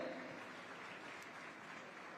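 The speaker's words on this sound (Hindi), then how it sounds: "आप सभी से निवेदन करूंगा, इन उत्कृष्ट विद्यार्थियों के लिए जोरदार तालियों का अभिनंदन" Applause for outstanding students at a chief minister's visit to Dhamtari, a steady, dense wash of clapping at moderate distance, fairly faint and unbroken.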